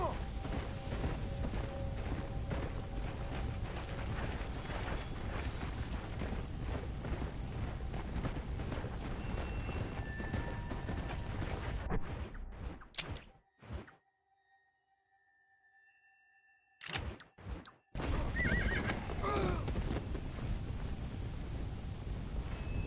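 Horse hooves in the zombie western video game Red Dead Undead Nightmare, with a loud, continuous rumble of galloping and game ambience that drops out abruptly to near silence midway, broken by a few sharp thuds before resuming.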